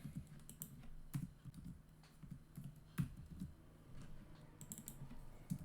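Fingers typing on a computer keyboard, a series of quiet, close, irregular key clicks in short bursts and single taps, with no talk.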